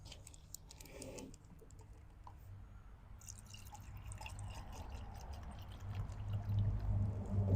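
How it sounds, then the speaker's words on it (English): Distilled water trickles and pours into a container of baking soda, with light drips and clinks at first, then a steadier, growing flow toward the end. "I'm going to mix this distilled water with the baking soda over here."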